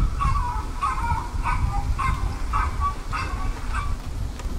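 A chained puppy barking in a yard, a regular series of sharp, fairly loud barks repeating about every half second over a constant low background rumble.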